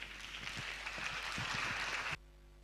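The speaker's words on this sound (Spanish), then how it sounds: "Un aplauso, por favor, hermanos." A church congregation at a Sunday Aymara service applauds with a brief burst of steady clapping that stops abruptly, faint and somewhat distant.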